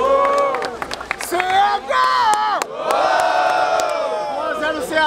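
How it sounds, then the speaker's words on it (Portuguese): A crowd roars and shouts at a rap battle final in Barueri, São Paulo, loud sustained cheering and whooping with a brief dip midway, a close, dense wall of voices. "Barulho para as rimas do preto."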